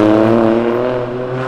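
A white Ferrari driving past on a Brazilian street, its engine giving a steady, loud tonal drone with strong harmonics for a second and a half, then easing slightly as it moves on.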